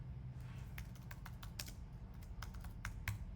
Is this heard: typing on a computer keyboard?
yes